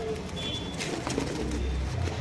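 A Pakistani high-flyer pigeon coos up close with low, soft, rolling calls, heard alone over faint background noise.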